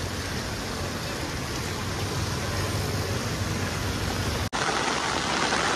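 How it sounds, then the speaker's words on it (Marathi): Heavy monsoon downpour in Mumbai pours as a dense, steady hiss of rain, loud and close, with a brief dropout near the end. "पाऊस आज सकाळपासून खूप जोरात लागला बघा."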